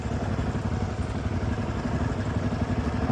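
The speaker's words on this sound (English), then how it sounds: "We are just driving a dirt bike on some trails." A dirt bike ridden along a small, rough trail, its engine chugging steadily and loudly up close the whole time, with clattering mechanical rattle mixed in.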